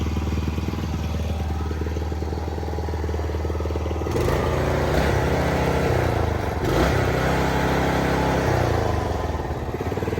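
Kubota T1-40S walking tractor engine running steadily, a loud, close, continuous single-cylinder chug with a mechanical clatter whose tone shifts midway, and no voices over it.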